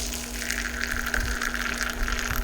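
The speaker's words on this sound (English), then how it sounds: "First thing we're going to do is we're gonna add some hot water to this." Hot water pours steadily into a dish used to assemble a no-bake Nescafe tiramisu cake, a continuous close gushing splash with no talking over it.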